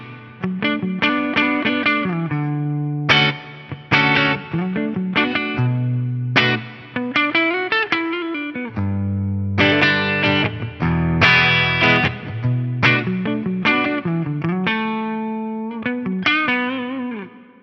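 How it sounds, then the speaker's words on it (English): Electric guitar played through a Fractal FM3 reverb block with the delay bypassed, a run of picked notes and chords ringing with lush, slightly distorted reverb tails, loud and steady with brief gaps between phrases. "If I bypass my delay block, I'm still just going to have a sweet reverb"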